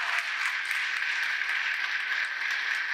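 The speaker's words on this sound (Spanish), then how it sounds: "Denle ese aplauso al Señor" A church congregation applauds during a Mass homily, a soft, even roar of many hands that carries on without a break and sounds somewhat distant.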